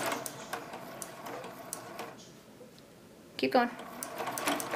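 A sewing machine stitches quilt fabric in short ticking bursts, pausing briefly before a rapid run resumes, while a person speaks over it.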